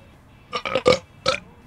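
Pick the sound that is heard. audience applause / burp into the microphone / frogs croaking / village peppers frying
burp into the microphone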